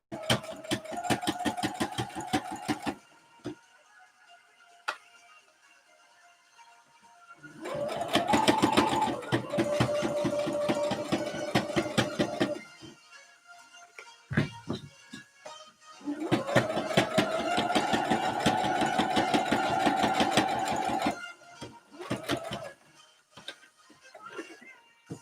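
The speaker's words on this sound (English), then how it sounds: "I'm just going to go ahead and sew through this side" A sewing machine stitching a DIY corset top in bursts of rapid, even, close mechanical whirring, separated by pauses with light clicks and handling.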